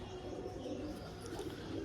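A pigeon coos softly, with low, rolling murmurs repeating over a faint, steady background, the bird fairly close but quiet.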